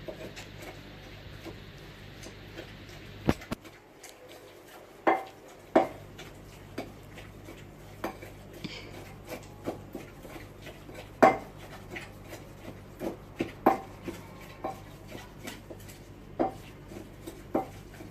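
Chili being pounded in a mortar for a spicy salad: sharp separate thuds and knocks at an uneven pace, some louder than others, over a quiet room with no one talking.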